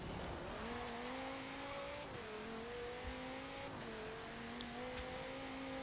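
A 2018 Ford Mustang RTR race car in Forza Horizon 4 holds a loud, steady engine drone with brief dips and shifts in pitch as it drives and slides, close and alone without speech.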